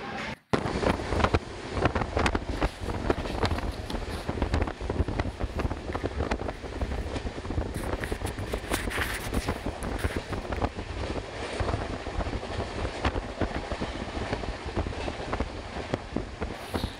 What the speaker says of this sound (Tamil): நெல்லூர்லேருந்து கிளம்பி வண்டி சரியான ஸ்பீடில் போய்கிட்டு இருக்குங்க